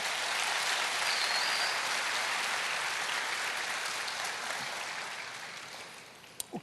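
A church congregation applauds together in a steady, broad wash of clapping that holds evenly and then fades toward the end, with no talking.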